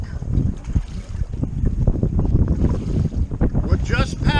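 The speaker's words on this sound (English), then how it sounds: "What just passed me was a twin engine." A twin-engine boat runs by on open saltwater, its engine rumble blending with strong wind buffeting the microphone and the wash of water.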